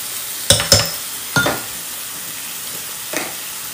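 Peppers tipped into browned meat frying in a pan, giving a few sharp clatters and scrapes close by, with quiet gaps between them.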